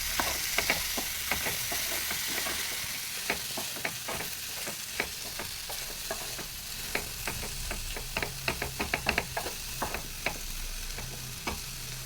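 Fresh pineapple being stirred in a hot pan, with repeated scraping and clicking strokes of a spoon over a steady sizzling hiss; close and alone with no voices.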